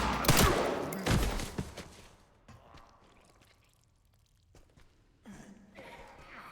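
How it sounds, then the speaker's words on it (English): Gunshots in the horror game Resident Evil Requiem ring out as a couple of loud, close blasts at the start, followed by quieter rustling and movement sounds. "Okay, we'll shoot him a few times."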